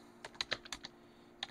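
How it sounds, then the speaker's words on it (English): Keys on a computer keyboard clack in a short uneven burst of about six close taps, then a pause and one last tap, under a faint steady hum. "we stop typing and press tab"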